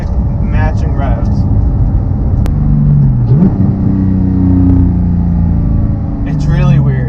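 A 2018 Porsche 911 GT3 991.2 with a manual gearbox blips its engine to rev-match during a downshift, a brief rising engine note over a steady cabin rumble, with someone talking throughout.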